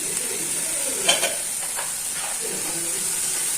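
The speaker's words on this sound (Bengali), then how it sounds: "এই যে এই মশলাটা কষাচ্ছি দেখো মশলা কষা হয়ে যাচ্ছে" Spice paste for paneer masala frying in a pan while being stirred, a steady close sizzle and hiss with a few scraping stirs of the spoon, alone.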